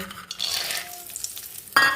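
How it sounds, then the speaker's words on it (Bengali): Peanuts dropped into a little hot oil, frying for a cabbage dish, give a steady close sizzle and crackle that jumps louder near the end. "তেলে আমি দিয়ে দিচ্ছি এই যে বাদামগুলো"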